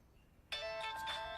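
A mobile phone ringtone starts suddenly after a quiet moment, a bright repeating electronic melody with steady tones that plays on loudly and close by.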